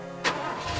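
Car engine starting in Far Cry 2, a short cranking burst that catches and settles into a steady, rising idle rumble, close and fairly loud.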